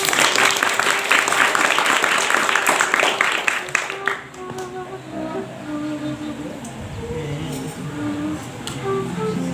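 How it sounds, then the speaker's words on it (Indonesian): Audience clapping at an Islamic boarding school gathering, loud and dense at first, then thinning out after a few seconds as a melodic sholawat-style music line and scattered claps carry on more quietly. "Yusuf, tepuk tangan deh"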